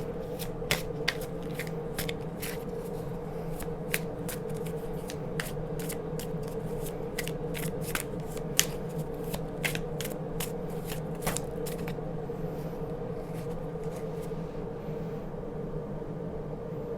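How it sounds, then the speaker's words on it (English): Tarot cards are shuffled by hand in a long run of quick, crisp riffling and flicking bursts at an uneven rhythm. The sound is close and fairly quiet over a soft steady background hum, and no one talks. "I want to pull a few more cards to see what else Spirit wants to clarify"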